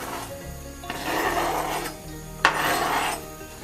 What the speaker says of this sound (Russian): Пока обжаривается лук